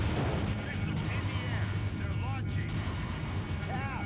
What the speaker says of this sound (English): The explosion sounds are very satisfying